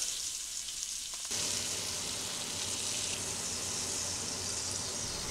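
A roast sears in a hot pan, giving a steady, fairly loud sizzle that swells after a short quieter start and holds continuously with no talk.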